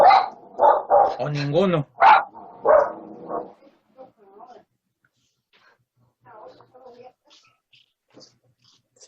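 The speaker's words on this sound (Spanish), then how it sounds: "no escuché por el ladrido de los perros" Dogs bark in short, sharp bursts close by, several yelps in quick succession, mixed with a person talking, then the scene fades to quiet murmurs.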